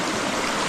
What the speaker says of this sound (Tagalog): May bukal din. Dito po ay maraming tubig.